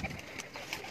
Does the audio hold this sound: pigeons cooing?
yes